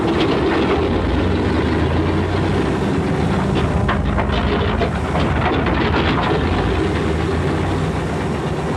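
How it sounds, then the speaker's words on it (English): Big Pratt & Whitney radial engines of a 1943 B-24 bomber run on the ground as they are started in sequence, a loud continuous low rumbling drone with rough, throbbing texture throughout. "proceeds to start the other engines in sequence of 4"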